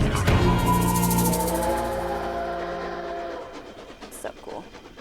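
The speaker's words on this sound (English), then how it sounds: "Is the train still going? Sounds so real." A train sound effect plays during a morning radio-style show, a loud rumbling rush with a sustained whistle-like tone that fades over several seconds, followed by faint voices and noises.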